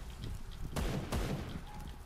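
Two sharp gunshots ring out in a Free Fire match, a loud crack near the middle followed by a second shot moments later, over low background game noise.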